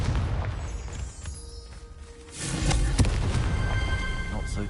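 A Confringo blasting curse from Hogwarts Legacy goes off as a loud booming burst with a rumbling tail, following a stretch of spell and ambient effects, with a voice briefly present.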